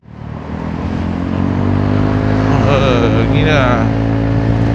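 A Honda Forza 350 scooter fitted with a performance cam accelerates up a bridge, its engine note swelling loud and rising steadily under wind rush, with a brief spoken word at the start.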